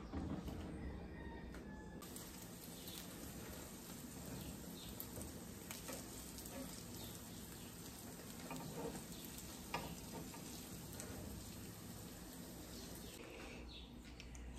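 Egg and potatoes frying in a covered pan over lowered heat, a steady quiet sizzle and crackle with small pops throughout.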